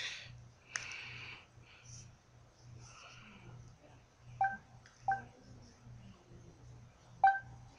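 A mobile phone on vibrate buzzes in a steady run of short, low pulses, with a few sharp clicks and rustles scattered over the top. It sounds fairly close and runs alone, with no talk.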